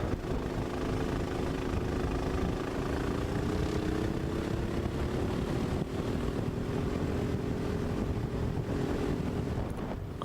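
A Sodi rental kart at full throttle on Track B at Atlanta Motorsports Park gives a steady engine drone whose pitch slowly bends, heavily buffeted by wind rush, loud and continuous with no talk.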